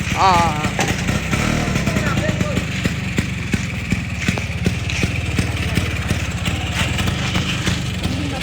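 A 1982 Vespa P150X vintage 150 cc two-stroke scooter engine runs steadily nearby with a low, continuous putter, while someone talks over it throughout.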